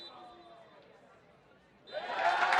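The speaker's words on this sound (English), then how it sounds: "Lots of cheers from the crowd there." A stadium crowd at a Duke vs. California ACC men's college soccer match lets out a rising roar of cheers for a confirmed goal, swelling late after quieter murmur.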